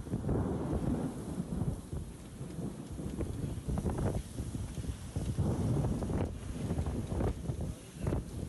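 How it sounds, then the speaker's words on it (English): A thunderstorm sweeps through Mecca, low rolling thunder rumbling in repeated bursts over constant rain and gusting wind buffeting the microphone. "the storm with the wind, rain, and lightning swept in"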